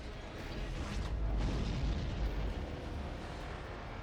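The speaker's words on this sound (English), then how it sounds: "I just love seeing all these blue explosions" Deep, rumbling video game explosions from Armored Core VI boom continuously with a dense low roar, swelling in the middle and fading slightly toward the end, no voices.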